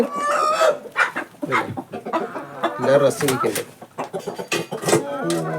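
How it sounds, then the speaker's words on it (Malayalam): Egg-laying hens of the Gramasree and Gramalakshmi breeds cluck and squawk close by in repeated bursts, with someone talking over them. "ഇത് നമ്മുടെ നാടൻ കോഴിയല്ല ഇത് നമ്മുടെ മുട്ടക്കോഴികളാണ് ഗ്രാമശ്രീ ഗ്രാമലക്ഷ്മി"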